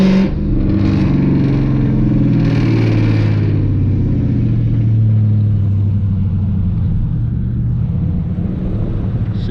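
A Dodge Challenger pulls off down the pit road at Charlotte Motor Speedway, its engine producing a loud, steady, deep rumble that holds throughout with no voices.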